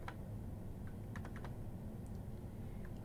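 Soft, quick key clicks on a computer keyboard entering Excel formatting shortcuts, a short burst of taps over steady background hiss.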